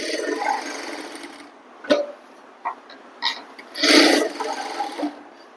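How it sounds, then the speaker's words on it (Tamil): A sewing machine stitches a garment neckline at speed in uneven mechanical bursts, with short sharp clatters and a louder burst near the end over a low background hum. "இப்போ ஸ்பீடாக ஸ்டிச் பண்ணுறேன் பாருங்க."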